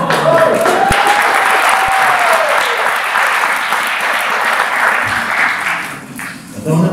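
An audience applauds steadily after a short musical tone, with dense, loud clapping throughout and a faint voice entering near the end.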